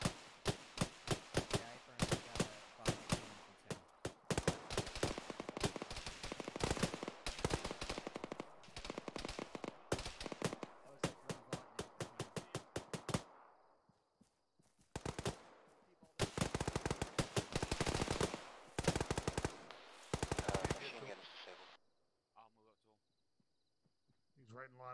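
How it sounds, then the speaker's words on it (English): A vehicle-mounted machine gun in an Arma battle rattles off long, rapid bursts, fairly loud, with brief pauses and a quieter gap before more fire. Other bursts sound farther off, and radio voices speak over the fighting. "Vehicle, machine gun, west-northwest, west, sounds like west."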